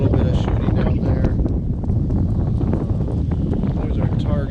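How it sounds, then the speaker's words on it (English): Strong wind blowing outdoors on an open farm property, a constant loud roar and buffeting against the microphone, with a voice talking partly buried beneath it. "It's super windy today"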